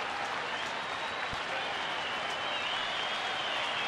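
Steady, broad applause from a large baseball stadium crowd at a night game of about 38,000 fans, sustained and enveloping throughout as spectators rise to their feet, with faint commentary voices beneath.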